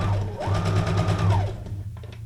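A sewing machine stitches paper junk journal paperclips in one short, steady whirring burst that stops abruptly, close and loud with no voices.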